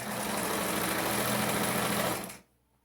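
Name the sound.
sewing machine stitching a skirt waistband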